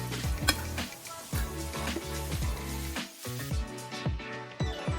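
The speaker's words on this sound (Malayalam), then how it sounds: "ഒരു പാനിലേക്ക് എണ്ണ ഒഴിച്ചതിന് ശേഷം ചെറുതായിട്ടൊന്ന് ഫ്രൈ ചെയ്തെടുക്കാം" Squid frying in oil in a pan, with a steady close sizzle broken by repeated stirring scrapes and clatters of a utensil against the pan, no voices.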